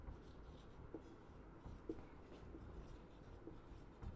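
Chalk or marker writing on a board during a physics lecture, a steady scratchy texture with small taps and strokes over a low room hum, with no voice.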